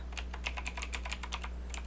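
A web address is typed on a computer keyboard in a rapid, even patter of close, crisp key clicks over a steady low electrical hum, with no talking.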